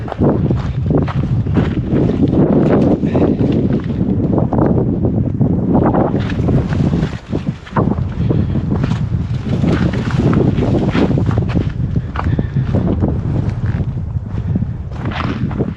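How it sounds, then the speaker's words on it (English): Strong wind gusts across the open desert of Joshua Tree during a rain storm, buffeting the microphone loudly and steadily for the whole stretch, with no talking heard. "hopefully that wind dies down"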